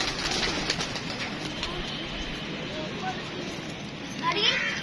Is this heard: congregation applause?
no